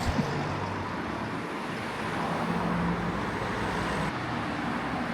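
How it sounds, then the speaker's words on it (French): Steady road traffic rumbles past on a street in Charleroi, Belgium, a continuous moderate wash of passing cars with no talk. "il y en a beaucoup des voitures, personne s'arrête"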